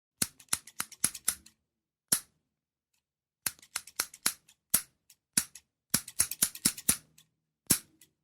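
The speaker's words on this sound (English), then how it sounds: "Caroline, hand me those scissors" Crisp scissor snips cutting hair come in quick bursts of three to six, with short pauses between groups, close up and in an otherwise quiet room.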